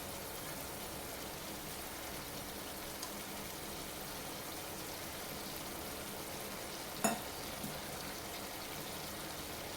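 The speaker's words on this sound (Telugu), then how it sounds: "కొత్తిమీర వేసాం కదా, మంచిగా కలుపుకుందాం ఒకసారి" Bottle gourd curry with fresh coriander is stirred in a pan, a steady soft sizzle and rustle running throughout with one sharp clink of the spoon near the end; no one speaks.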